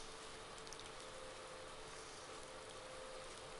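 Steady hiss of light rain beginning to sprinkle in Farming Simulator 19 on a PS4 alpine map, an even wash of patter throughout with no voices.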